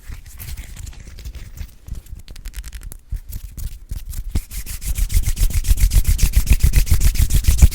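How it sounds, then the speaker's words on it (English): Hands rub together in a close ASMR recording, rapid rhythmic brushing strokes that start soft and sparse and grow louder and denser toward the end, with no talk. "I just rub my hands together like this, like so."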